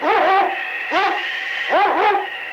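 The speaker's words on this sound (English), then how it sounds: "It's Yukon King, swiftest and strongest lead dog of the Northwest" A sled dog, the lead dog of a team in a Yukon radio drama, barks three times in a sharp, close, evenly spaced sequence with no voices over it.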